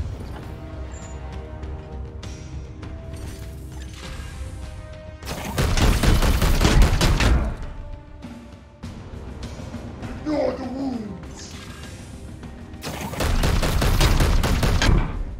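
Bursts of rapid gunfire in the Warhammer 40,000: Chaos Gate – Daemonhunters video game, with loud fusillades arriving in separate volleys between quieter stretches of game ambience.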